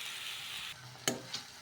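Tomato paste being stirred into frying onion masala in a pan: soft sizzling for the first half, then a few sharp scraping spoon strokes against the pan, close and quiet with no talking.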